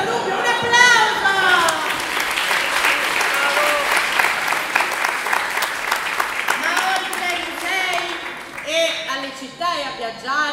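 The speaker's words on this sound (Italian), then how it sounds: "senza dubbio, un applauso!" Sustained applause from a school recital audience, dense and steady throughout, with a few voices and cheers rising over the clapping near the end.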